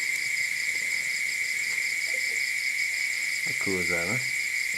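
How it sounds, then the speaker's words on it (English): Loud bugs chirp outside a workshop in a steady, continuous high-pitched whine, and someone speaks briefly over it. "Why these bugs are loud."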